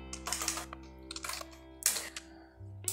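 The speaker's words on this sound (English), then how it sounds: "So I'm just going to type here" Keys on a computer keyboard clatter close by in quick, irregular bursts of clicks, with short pauses between them, in a quiet room.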